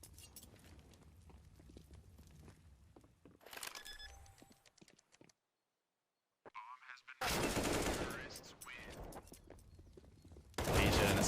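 Counter-Strike gunfire on the Inferno map: scattered shots and clicks, a brief pause into near silence, then dense loud bursts of rapid fire near the end.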